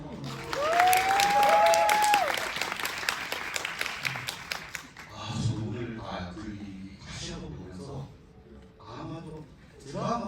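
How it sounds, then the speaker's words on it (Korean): Theater audience applause at a film screening talk event: a dense burst of clapping fills the first half, with a short whistle-like tone early on, then fades as voices and talk take over. "박수"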